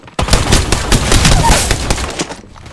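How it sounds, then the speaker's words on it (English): Rapid bursts of automatic gunfire from Apex Legends during a ranked match, loud and dense with overlapping shots and sharp repeated cracks over roughly two and a half seconds. "Getting shot at."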